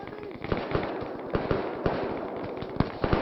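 Rapid gunfire from an Arma 3 military operation, with sharp repeated shots and bursts cracking at irregular intervals over a steady, dense battle din, fairly loud and close throughout.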